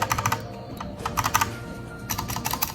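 Keys clacking on a DareU EK87 mechanical keyboard with red switches, close and clear, with several quick bursts of rapid keystrokes separated by short pauses and no voices.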